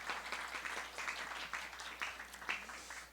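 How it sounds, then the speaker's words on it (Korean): Congregation at a church worship service applauding a teen who finished a new-member course, a fairly faint, steady patter of clapping hands lasting a few seconds with no voices over it. "박수 쳐주기 바랍니다"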